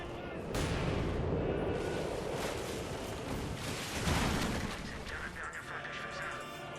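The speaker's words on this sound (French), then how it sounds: "Oula, il y avait un canon divisionnaire 76" Heavy cannon blasts from a 76 mm divisional gun in the video game Company of Heroes boom out, one sharp report early and another roaring one later, amid dense rumbling battle noise.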